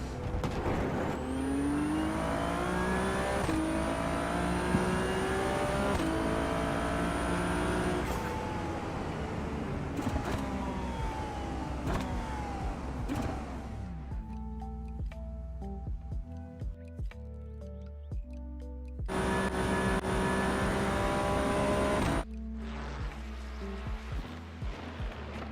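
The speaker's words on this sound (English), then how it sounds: "Car sounds good." Race car engine in iRacing sim racing, a loud revving drone with rising pitch sweeps through gear changes, broken by sharp shifts and a drop to a quieter idle-like stretch before climbing again.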